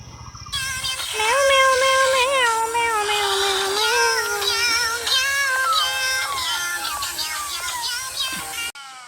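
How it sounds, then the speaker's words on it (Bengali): A cat meows close by in a village setting, giving a run of drawn-out, wavering cries that rise and fall in pitch, loud and clear over a faint background. "বিড়ালে ম্যাও ম্যাও করতেছে"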